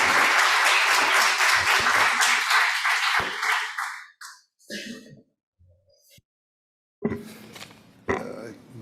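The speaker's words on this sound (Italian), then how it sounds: "Facciamo un applauso di incoraggiamento." Applause for a professor invited to the stage at a presentation meeting, a dense burst of clapping that fades out after about four seconds, followed by scattered small noises and then a voice speaking.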